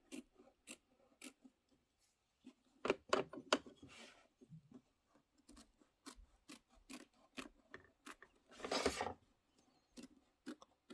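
Snips make a series of sharp, quiet clicks and crisp cuts as they trim fabric for a candy corn quilt pumpkin pincushion, spaced irregularly with short pauses and a denser rustling burst near the end.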